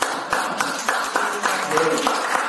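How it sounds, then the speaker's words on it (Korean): An audience at a founding assembly of a charitable association claps in rhythmic unison, with sharp, regular beats about every quarter second over steady background clatter. "그건 박수가 나와야 돼요"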